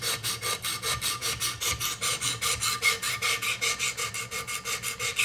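Blade of a Benchmade 2500 Mini Reflex auto military knife drawn across sharpening stones, a rhythmic steady rasping scrape repeating back and forth about five times a second, close and continuous.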